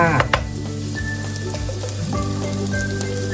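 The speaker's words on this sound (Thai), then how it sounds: "ผัดพริกเผาเลยค่ะ" Thai roasted chili paste stir-fried with fragrant garlic in a pan, a steady close sizzle with light crackles and spatters, under soft background music-like tones and no talking.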